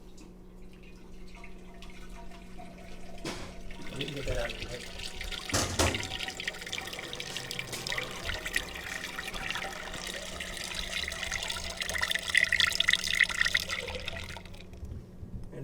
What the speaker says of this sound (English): so we're going to pour our mixture in.